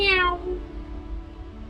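A cat gives a single close, loud meow that starts bright and slides down in pitch before trailing off into a low rumbling background.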